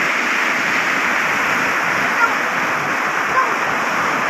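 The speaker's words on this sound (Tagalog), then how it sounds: "Infinity Falls." Infinity Falls at Budlot spring in Taginis gives off a steady, loud roar of rushing water, close by and constant throughout with no breaks.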